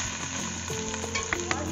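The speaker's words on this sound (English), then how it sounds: "Onions are frying" Onions, ginger garlic paste and tomatoes fry in a pan for restaurant-style masoor dal, giving a steady, close crackling sizzle with scattered louder pops and no voices.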